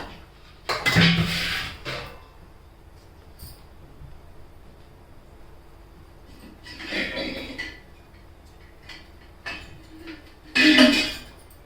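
Copper and brass pots clatter and scrape in a few separate bursts as they are scrubbed, with quieter rubbing between them and no talking.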